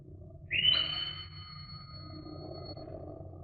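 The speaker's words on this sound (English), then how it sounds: "The petty officer beside the loudspeaker hanging on the bulkhead switched on and piped shrilly." A boatswain's pipe blown over a ship's loudspeaker gives one shrill, rising whistle that holds briefly as a thin high tone and fades, heard against a low rumbling background hum.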